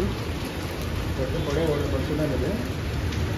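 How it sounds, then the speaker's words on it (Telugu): Steady rain in Madanapalle hisses across the whole clip, a dense, even wash of falling drops with a low rumble underneath and no voices. "మధ్యలో సింపల్గా మొదలైన వర్షం పెద్దగా పడుతుంది, చిన్నగా పడుతుంది"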